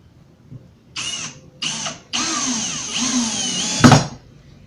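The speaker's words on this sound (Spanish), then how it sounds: "vamos a proceder a unir con los tornillos" A power drill drives screws into wooden shelf pieces in three bursts, each whine rising in pitch and ending in a short thud, close and clear.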